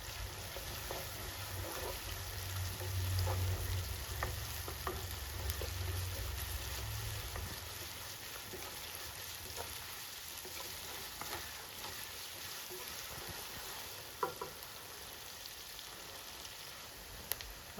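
Onions and curry leaves fry in hot oil with a faint, steady sizzle and crackle, a low rumble under the first half, then soft scattered pops and clinks from a utensil.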